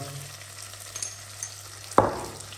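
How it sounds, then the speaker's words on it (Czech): Ingredients sauté in a pan for cowboy beans with a steady low sizzle, then ground sweet paprika goes in and a sharp clack of a spoon against the pan cuts through near the end. "Zarestuju. Přidám papriku, takhle stačí jedna žička."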